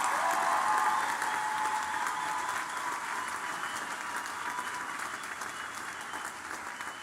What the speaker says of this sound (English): give everybody another round of applause and congratulations to all our students